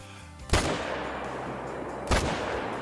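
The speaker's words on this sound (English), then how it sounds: "And of course he's gonna start running when we took the shot, but the second shot definitely connected and he's down." Two loud rifle shots fired at a blacktail deer outdoors, sharp cracks about a second and a half apart, each followed by a rumbling echo.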